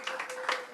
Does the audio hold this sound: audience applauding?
yes